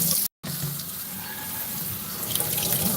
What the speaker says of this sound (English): I'm just washing my hands, guys.